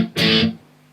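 A single distorted electric guitar down stroke from a song's interlude rings out loud and bright, then is cut off quickly, leaving a faint low hum.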